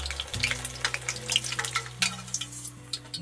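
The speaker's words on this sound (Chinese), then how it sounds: "桂皮、香叶、葱姜，小火慢慢炸。" Cassia bark, bay leaves, scallion and ginger fry slowly in oil over low heat, giving a soft, steady sizzle with scattered light crackles and pops close by, no voices.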